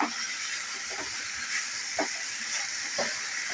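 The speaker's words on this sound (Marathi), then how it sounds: "हे आता आपण परतून घेऊया" Fenugreek leaves sauté in a pan over medium heat with a steady, even sizzle, broken by a few soft scraping stirs at intervals.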